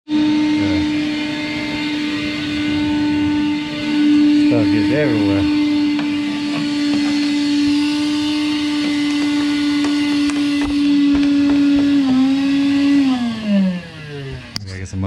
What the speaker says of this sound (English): I'm gonna run the vacuum a couple more times